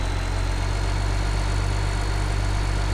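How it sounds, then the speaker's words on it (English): Steady, unbroken drone of an old tractor's diesel engine idling in Farming Simulator 15, a dense low rumble and vibration running throughout with no voices. "Not a bad old tractor, this one here. Sounds pretty good. Runs alright."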